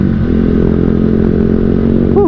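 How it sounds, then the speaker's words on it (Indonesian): A motorcycle engine runs during a group touring ride. The engine and exhaust keep up a loud, close, continuous rumble, and a short rising rev comes at the end. "Suara motornya di belakang."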